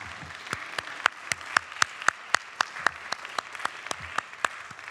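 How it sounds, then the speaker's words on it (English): Audience applause at a university staff awards ceremony: a thin, sparse clapping with sharp, evenly spaced claps, roughly a dozen distinct hands standing out over a faint spread of background clapping, moderately quiet and steady throughout. "One should not miss out on applause."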